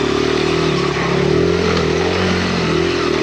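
Honda XR100R dirt bike engine pushing through a deep snowy ditch, a steady loud buzzing drone held near and constant with slight shifts in pitch and no voices.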